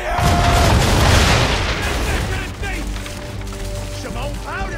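Ship cannons fire in a naval battle in the video game Assassin's Creed 3: a dense, heavy barrage of booms for about two seconds, then a fading rumble with ringing tones and faint voices.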